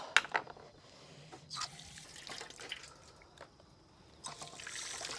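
Oysters are rinsed under running water, with tap trickle, irregular splashes and drips, and a few clattering knocks of shells, close by and fairly quiet.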